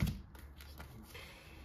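Tarot cards handled and flipped upright on a table, with soft close rustles and light taps at a low level and a faint room hum beneath, no voices.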